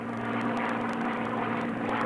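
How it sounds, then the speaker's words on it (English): A warbird propeller aircraft engine drones steadily in flight just after takeoff, a loud, even, close-up roar with a strong low hum and faint rhythmic ticking, heard alone without talk. "The plane feels normal now that it's off the ground."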